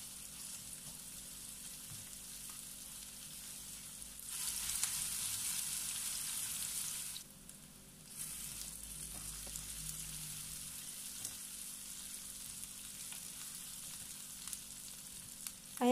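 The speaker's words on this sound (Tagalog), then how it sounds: "igisa lamang po natin ito hanggang sa lumabas ang aroma ng ating sibuyas at bawang." Onion and garlic sauté in a hot pan with a steady, close sizzle that swells louder for a few seconds midway, dips briefly, then settles back into continuous frying with no talking.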